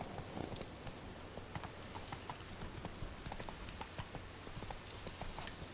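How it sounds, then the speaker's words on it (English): A horse ridden in The Witcher 3 gives a steady, even clip-clop of hooves at a brisk pace, continuous and fairly close throughout, with no talk over it. "I can still ride the horse"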